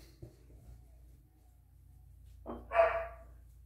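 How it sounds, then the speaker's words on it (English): A dog barks once or twice in the background during a straight razor shave, a short bright burst rising out of a quiet room with a low steady hum underneath. "The dog barking has really got my mind"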